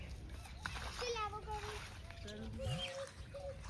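Water splashes and trickles steadily as it is filled into a container at a Gujarati village home, close and continuous, with a voice and other voices nearby.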